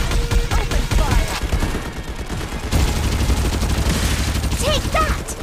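Rapid gunfire in the shooter Farlight 84, dense bursts of automatic shots rattling loud and close almost without pause, with game voice lines mixed in.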